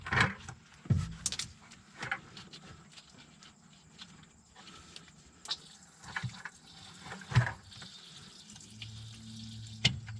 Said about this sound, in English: we're going to drain some fuel out